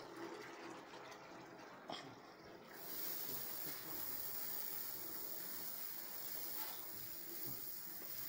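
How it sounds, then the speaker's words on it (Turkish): Water fills a trough or container inside a stone livestock shelter for sheep, a steady broad hissing rush that grows fuller partway through and runs on without pause. "Su doluyor."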